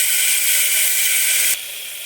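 Finely chopped large tomato sautés in a hot pan with a loud, steady close-up sizzle and hiss that drops abruptly in level near the end.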